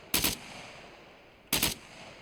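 Two short, sharp bursts of automatic gunfire in the survival game SCUM, about a second and a half apart, each a loud rapid volley over faint background ambience.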